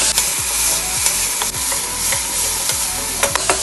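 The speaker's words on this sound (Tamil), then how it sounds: "இப்போ இது எல்லாத்தையும் நல்லா 1 நிமிஷம் வதக்கலாம்." Onion, tomato, mint, coriander, chilli and carrot sauté in a pan for Ramadan nonbu kanji. A loud, close sizzle runs throughout, broken by the rhythmic scraping and clatter of a spoon stirring the pan.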